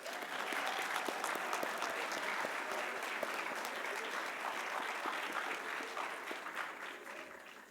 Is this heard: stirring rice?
no